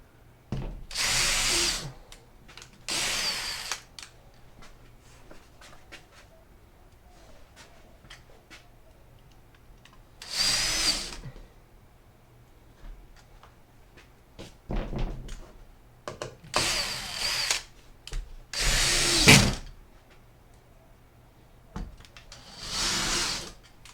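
Power drill driving screws into hard plywood siding on a micro camper, several separate loud whirring bursts of a few seconds each, with quiet pauses and light handling knocks between them.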